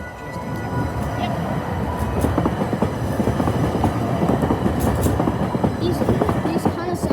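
A train rolls through the Fourteenth Street railroad crossing in Sacramento with a steady rumble and rhythmic clickety-clack of wheels, close by and loud, with faint squeals overhead.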